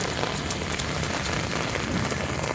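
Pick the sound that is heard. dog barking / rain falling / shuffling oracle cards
rain falling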